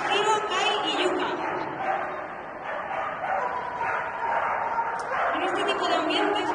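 Several dogs bark and yip at a dog agility exhibition in Málaga, the barking steady amid a noisy crowd and an announcer's voice over the loudspeaker.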